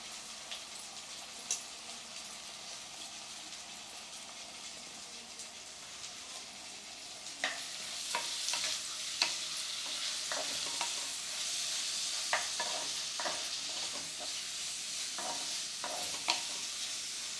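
Green chilies and ginger sizzle and fry in a pan with onions while a spoon stirs them, a steady crackling hiss with sharper scraping stirs that grow busier in the second half, close and without talk.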